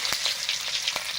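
Panch phoron spices sizzling in hot oil with bay leaf and dried red chilli: a dense, bright crackling hiss with a few sharp pops, close and continuous for a short moment.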